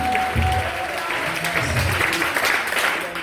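Congregation applauding in acclamation of Jesus Christ at a revival church service, a steady wash of clapping with murmured voices and a faint tone beneath, continuous throughout.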